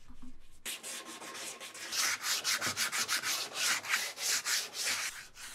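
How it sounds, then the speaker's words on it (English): Loud rhythmic sanding of rotten tree stump wood, regular back-and-forth scratchy strokes that grow stronger and more pulsing partway through, close and with no talking. "and ended off with some more sanding."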